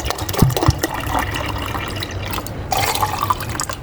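Water pours steadily into a container, about one litre of drinking water, a continuous splashing gush that shifts slightly in pitch as it fills.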